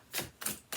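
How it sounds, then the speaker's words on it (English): Tarot card deck being shuffled, three quick soft riffling bursts in a steady rhythm, close and quiet. "I'll take some time to shuffle here."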